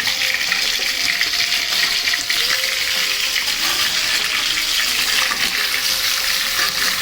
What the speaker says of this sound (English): Add the mutton gently. So it's added now. Now we are going to saute it.